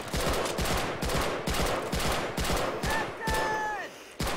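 Rapid gunfire in the Men of War video game, a dense run of sharp shots at a steady close rhythm, with a brief whining effect near the end and no talk.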